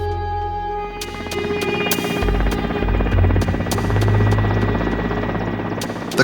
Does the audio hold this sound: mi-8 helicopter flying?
yes